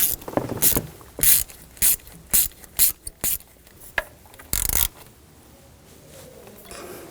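Hose clamps on the heater hoses of a 2014-2018 GMC Sierra are tightened with a ratcheting tool: a run of about nine short, close mechanical bursts of clicking, spaced fairly evenly, then a quiet stretch with faint handling.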